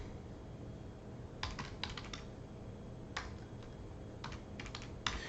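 Quiet keystrokes on a computer keyboard come in short, irregular bursts of a few clicks each, close to the microphone, against a low hiss with no talking.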